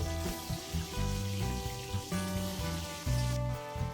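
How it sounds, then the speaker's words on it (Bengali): Eggs rubbed with salt and turmeric sizzle steadily in hot oil, a continuous crackling hiss that runs the whole time beneath a bed of background music. "প্রথমে আমি নুন হলুদ মাখানো ডিমগুলোকে গরম তেলের মধ্যে ভেজে নেবো"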